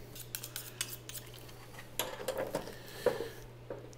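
A knife works through an A5 Wagyu tenderloin, cutting it into fillets: soft slicing and sharp, irregular taps and clicks against a cutting board over a low, steady hum.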